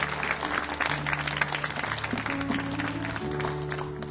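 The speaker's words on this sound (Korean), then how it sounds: "우리 박수로 앞으로 모시도록 하겠습니다" A church youth worship congregation claps to welcome an award recipient forward, a sustained burst of applause filling the room over a soft held music tone.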